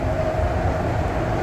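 REM metro train riding on tracks at night between Brossard and Central Station in Montreal, a steady close low rumble with a faint motor whine, no talking.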